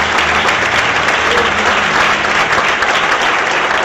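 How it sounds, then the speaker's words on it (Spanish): A church congregation breaks into dense, sustained applause during a Spanish-language service about the universal church, steady and loud throughout with a crowd murmur beneath. "Y damos un fuerte aplauso a la presencia de Dios"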